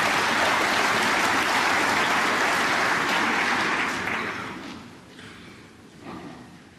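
A snooker crowd at the German Masters semi-final applauds a shot, with loud sustained clapping that fades gradually toward the end, leaving a few scattered claps.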